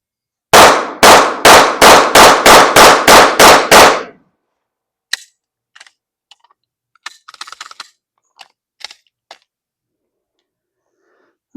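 Ten rapid, evenly spaced shots of 9mm 115-grain full metal jacket from a Springfield Echelon pistol with a compensator cut, loud and close, followed by faint scattered clicks and handling sounds.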